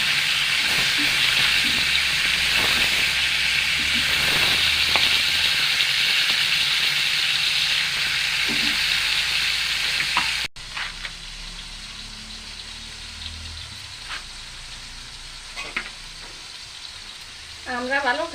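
Fish fries in a little oil with a loud, steady hissing sizzle that drops off abruptly partway through, leaving quieter crackles and faint background sounds.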